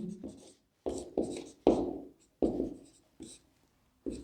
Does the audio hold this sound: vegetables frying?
no